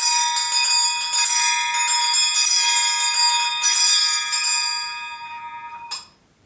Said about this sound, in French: Je vais jouer deux cloches en même temps.